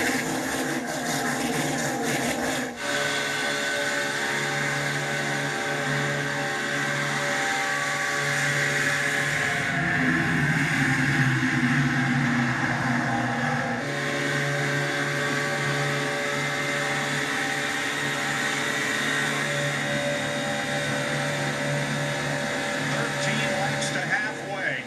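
Stock cars pack racing in the Daytona 500, a dense sustained engine roar from many cars running close together, steady and loud for the whole stretch, with a crowd and commentary-like voices mixed underneath.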